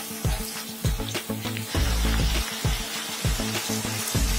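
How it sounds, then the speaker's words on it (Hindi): Red chilli and cumin powder masala roasting in a pan for a matar mushroom curry, giving a steady close sizzle broken by repeated scraping and stirring knocks throughout. "अब इसको हम भूनेंगे।"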